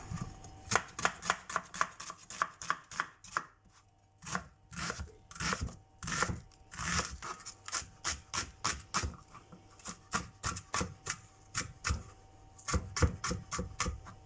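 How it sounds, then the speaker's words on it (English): A knife dices an onion on a cutting board in quick, regular chops, close and crisp, running in steady bursts with short pauses and no voices. "I'm dicing up the onion."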